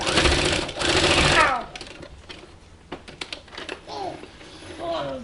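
Sewing machine stitching the turned-in edge of a cloth napkin, a loud steady mechanical whir for about a second and a half, then fading into quieter handling sounds.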